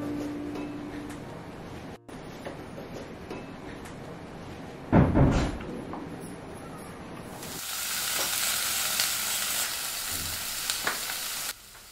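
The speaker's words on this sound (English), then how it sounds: "Here I am giving tadka to the boiled mixed dal with panchfuran, dry red chilies, chopped onions and tomatoes" Tadka of panch phoron, dry red chilies, chopped onions and tomatoes hitting boiled mixed dal: a faint kitchen hum, a sharp burst of sizzle, then a steady loud hiss of frying that continues to the end.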